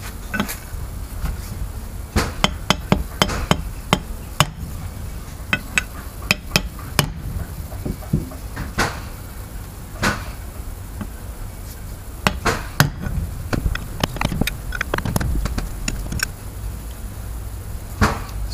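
Hammer blows knock the ring gear off a Toyota Prado differential, sounding as irregular sharp metallic strikes, some in quick clusters, close and fairly loud, with no talk.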